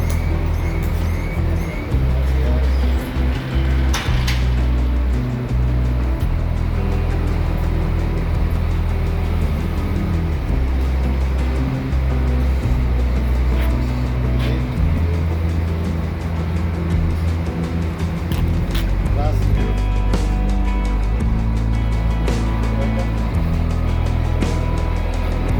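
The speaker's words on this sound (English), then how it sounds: "A nice air-conditioned bus for our journey to Tulum." Riding inside an air-conditioned bus from Playa del Carmen to Tulum: a continuous low engine rumble and road roar with shifting drones, occasional faint rattles and chirp-like squeaks over the top.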